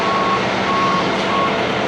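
Steady reversing beeps from a tractor-trailer concrete truck at a concrete pump job, a continuous tonal alarm over a loud diesel engine rumble throughout.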